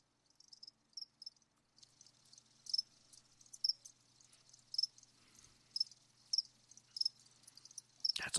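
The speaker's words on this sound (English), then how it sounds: "That's all we hear. Crickets." Crickets chirp in short, evenly spaced bursts about once a second against a near-silent background, with a faint low hum underneath.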